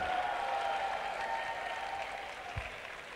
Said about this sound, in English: Another round of applause for Hanim Lee